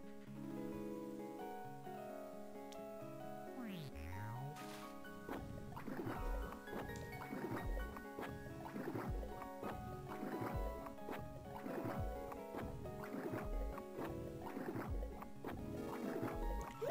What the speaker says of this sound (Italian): Guardalo mentre succhia l'acqua.